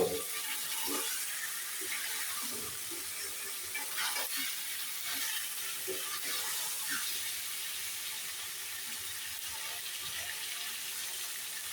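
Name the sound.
chicken meat being sautéed in a pan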